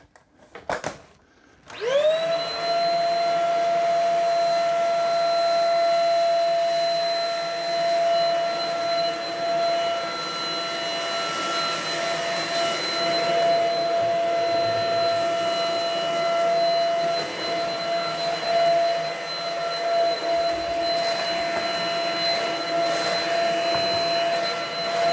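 A Shark HV371 Rocket corded stick vacuum spins up and runs on a hardwood floor in its lower-speed setting, a loud steady whine with tonal hum held for over twenty seconds.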